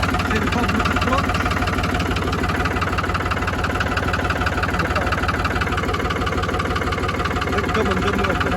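A dumper's engine, restarted after sitting unused since August of the previous year, idles with a loud, steady knocking chug that runs the whole time without a break.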